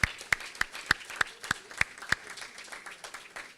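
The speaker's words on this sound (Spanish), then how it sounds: "Un aplauso para Lourdes" Applause at a book presentation: a few sharp, evenly spaced claps close by, quickly joined by looser scattered clapping that fades off within a few seconds.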